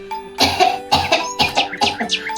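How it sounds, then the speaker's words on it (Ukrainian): A run of several quick coughs in a row, close and fairly loud, each a short harsh burst with rapid rhythm. "Ведмедик кашляє."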